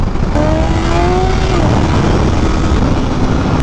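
A Kawasaki Ninja H2 motorcycle on its stock exhaust revs loudly, its engine note climbing steadily over a dense, close roar for several seconds.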